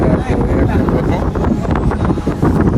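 Gusty wind at a hillside temple buffeting the microphone with a rough, continuous rumble, fairly loud and close throughout.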